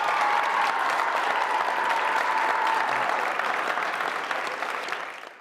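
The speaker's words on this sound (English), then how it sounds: "Let's give Amaro a round of applause." A school audience at a Cedar Falls High School signing day applauds an athlete with dense, continuous clapping, loud and full at first and then tapering off toward the end.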